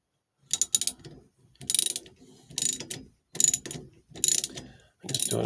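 A ratchet wrench clicks in six short bursts of rapid pawl ratcheting while tightening a bolt on a Shelby Mustang steering wheel. The bursts are close and loud, with brief pauses between them.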